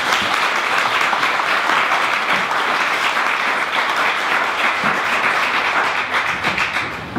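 A warm round of applause from a panel discussion audience for a speaker, dense steady clapping from many hands that fills the room evenly and carries on for several seconds without talk.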